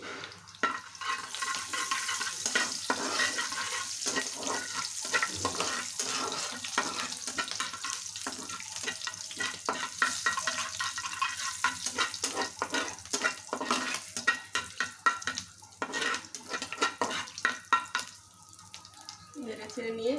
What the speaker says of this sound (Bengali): এর মধ্যে দিয়ে দেব সাদা জিরা ফোড়ন। কিছুক্ষণ নেড়ে চেড়ে নিয়ে